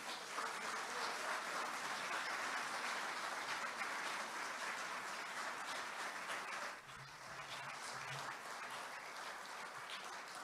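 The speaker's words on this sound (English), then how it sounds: "By your applause, you've shown appreciation." Sustained applause from a large audience at the opening ceremony of a Rotary district conference, steady and dense throughout, dipping briefly before continuing.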